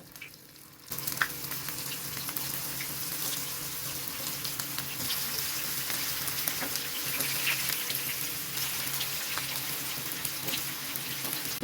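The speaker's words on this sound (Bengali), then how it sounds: "তেল গরম হয়ে গিয়েছে এখন আমি এই বলগুলো ভেজে নেব" Beef keema kofta balls frying in hot oil, a steady dense sizzle and crackle that starts abruptly and holds loud and close throughout, with no talking.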